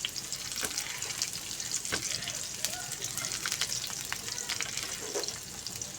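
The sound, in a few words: onion frying for green chilli garlic chutney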